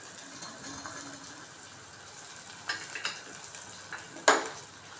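Peas, carrots and other vegetables with curry leaves fry in a pan with a soft, steady sizzle, broken by a few light clinks of a spoon against the pan near the end.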